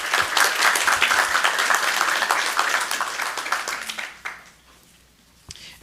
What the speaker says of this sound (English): Let's give Alex one more round of applause.